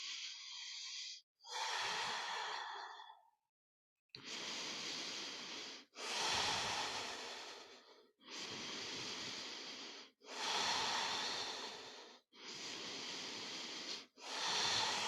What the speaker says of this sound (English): Keep the breath nice and steady.